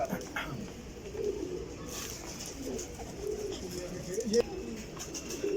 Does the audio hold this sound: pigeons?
yes